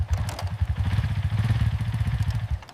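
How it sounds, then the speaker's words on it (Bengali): A motorcycle engine brakes as the rider closes the throttle, downshifts one gear and eases the clutch out, giving a near, pulsing low burble with faint clatter and no voices. "ক্লাচ চেপে 1 গিয়ার কমাও। আস্তে করে ক্লাচ ছাড়ো।"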